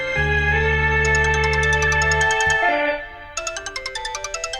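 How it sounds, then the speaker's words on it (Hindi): A mobile phone ringtone plays loudly: a sustained electronic melody, a brief pause, then a quick repeating pulsed chime pattern, with no voices. "कितना भी फोन बजे, बजने दो, उठाना मत।"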